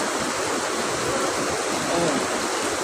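Water rushes steadily at Pidlanan Falls, a continuous close broadband roar of the cascading waterfall with no breaks, loud and even throughout.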